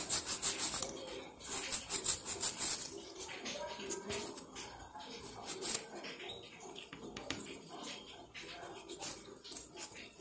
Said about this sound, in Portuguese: Tô usando essa lixa bem desgastada,